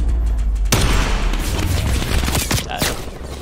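Gunfire in a Search and Destroy match on the Pines map erupts as a sharp, loud burst, followed by a jumble of further booming shots and impacts in close succession.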